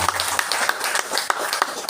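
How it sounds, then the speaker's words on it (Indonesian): Audience applause at an Islamic dhikr and manaqib gathering, a fairly close patter of scattered hand claps with an uneven rhythm. "Tepuk tangan buat beliau."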